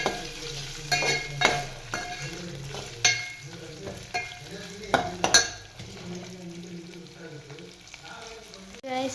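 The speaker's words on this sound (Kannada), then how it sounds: "ಗೈಸ್, ಬಟಾಟೆ ಸ್ವಲ್ಪ ಫ್ರೈ ಆಗತ್ತವು." Potatoes fry in a pan with a continuous sizzle, broken by several clattering stirs and scrapes of a utensil against the metal, close and fairly loud.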